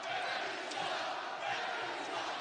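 Arena crowd at an Alabama versus South Alabama college basketball game groaning and jeering at a referee's call, a dense, continuous roar of many voices filling the space with no break.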